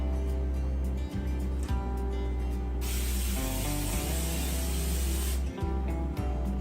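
A sustained hiss of aerosol cooking spray onto a cast iron pan lasting a few seconds, set against a steady low mechanical hum with occasional clicks.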